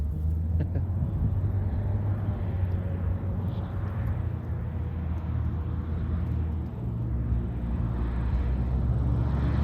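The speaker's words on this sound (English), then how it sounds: "Airport fire truck on his way back" An airport fire truck rolls by on the apron as a steady, heavy low engine rumble that holds for the full length at an even level, with faint jet aircraft noise mixed into the background.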